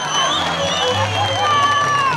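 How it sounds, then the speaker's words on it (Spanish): A crowd at a local gathering in Colcabamba cheers and applauds, a steady wash of voices and whoops under sustained tonal music, fairly loud and close. "El aplauso para la Aide Raimundo que se queda en Cortalanda."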